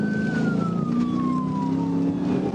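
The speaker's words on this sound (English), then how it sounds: "Sirens wail, lights flash, but he's not stopping." Police car siren wailing during a high-speed chase, one loud sustained tone sliding slowly downward over a constant engine and road rumble.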